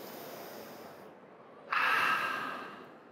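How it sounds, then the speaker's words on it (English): A single big exhalation during a face-lifting exercise session, a close, loud breathy rush of air that swells suddenly and trails off over about a second, with no talk over it. "Inhale, big exhalation."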